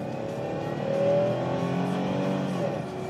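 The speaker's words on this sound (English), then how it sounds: "give it a little gas and get on it" A 1997 Pontiac Grand Prix GT with a supercharger-like whine accelerates hard from inside the cabin, engine note rising steadily and then dipping as it shifts gears.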